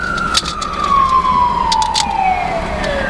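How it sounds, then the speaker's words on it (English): A loud ambulance siren wails and slowly falls in pitch as it passes close by, with traffic noise underneath. "ambulance."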